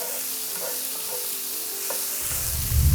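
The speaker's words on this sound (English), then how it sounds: "It's already cooked chicken, so I'm really just browning everything lightly." Already cooked chicken and onions browning in a pan, a constant close sizzle with a few light scrapes of stirring, the frying growing louder and rougher near the end.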